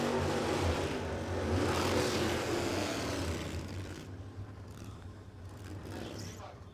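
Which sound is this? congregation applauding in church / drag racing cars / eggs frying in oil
drag racing cars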